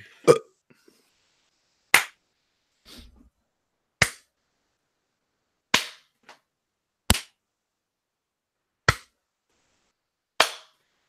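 About eight sharp, loud hand claps ring out one at a time, spaced a second or two apart, with silence between them and no talking.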